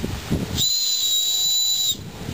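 A Wazoo Mountaineer survival bracelet whistle is blown once, giving a shrill, steady tone that holds for just over a second and stands alone against faint background hiss.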